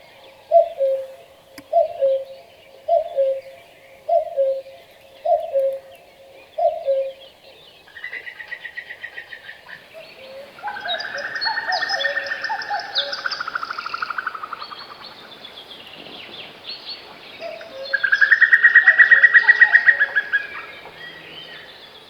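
A steady series of soft two-note calls from a male cuckoo repeats about six times, then gives way to the female cuckoo's bubbling, rapid chuckling call, mostly alone and moderately distant.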